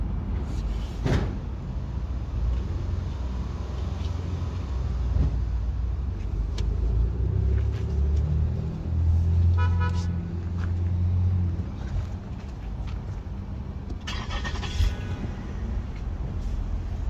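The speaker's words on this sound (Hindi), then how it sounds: "अभी हमने गाड़ी को स्टार्ट किया, एसी को ऑन किया।" A 2013 Lexus ES350 idles with its air conditioning switched on, giving a steady low engine hum and blower noise that carries on throughout, with a few clicks and knocks and a brief higher whine partway through.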